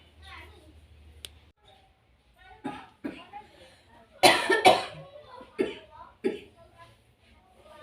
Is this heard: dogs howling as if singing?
no